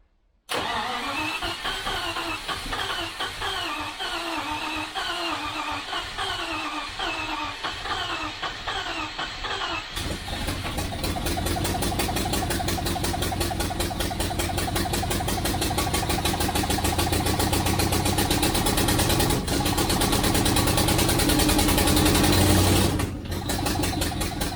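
A 1973 Range Rover B suffix engine on its first start: the starter cranks rhythmically for several seconds, then the engine catches and settles into a steady, close idle that runs rich and holds to the end.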